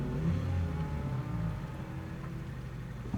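A 2018 Ford Focus ST on a race track accelerates hard, its engine note climbing loud and close inside the car before easing slightly, with no talk.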